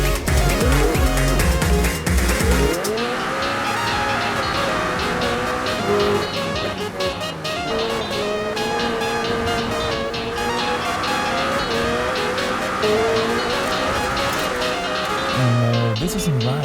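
A 1000hp McLaren Speedtail in the Forza Horizon 4 racing game screams around a track, its engine revving continuously at high pitch and rising and falling through gear changes, loud and close throughout.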